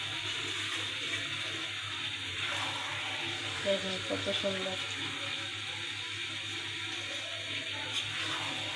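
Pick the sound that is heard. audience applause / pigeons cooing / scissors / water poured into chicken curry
water poured into chicken curry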